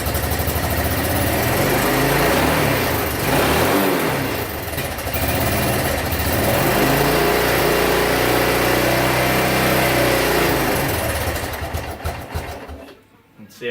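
A small engine on a three-wheeled vehicle, with a carburetor that needs cleaning, runs steadily and loudly up close, then falters and dies near the end when the throttle is released.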